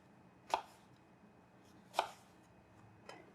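A knife cuts through food on a cutting board in a home kitchen, three separate sharp chops spaced over a couple of seconds, the last one softer, heard alone in a quiet room.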